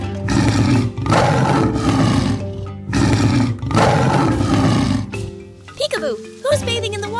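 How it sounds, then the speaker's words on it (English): Lion roaring in three loud, rumbling bursts close at hand, each lasting over a second, followed by a few brief higher squeaky sounds. "It's the king of the jungle, the mighty lion! Can you roar like a lion?"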